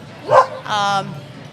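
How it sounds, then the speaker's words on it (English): A four-month-old guide dog puppy in training at an outdoor spring festival lets out two quick, close yipping barks, the second slightly longer and more drawn out. "Oh, we have another dog. We have another puppy."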